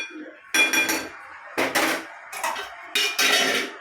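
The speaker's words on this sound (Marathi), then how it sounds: "आता मी याच्यावर थोड्या वेळासाठी झाकून ठेवते." Metal lid handled over a cooking pan of bombil fish chutney, producing four close, loud clanking metallic knocks and rattles, each followed by a short ringing decay.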